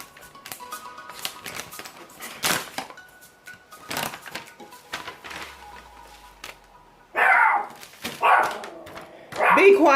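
A dog barks indoors in short sharp bursts, with louder barks near the end, while a person talks and handles packaging for LED strip lights.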